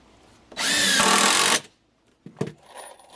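A power drill whirs loudly for about a second driving a screw into treated lumber for entry stairs, then stops, followed by a couple of short clunks and handling noises.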